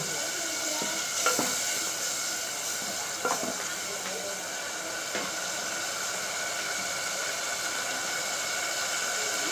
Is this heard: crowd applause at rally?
no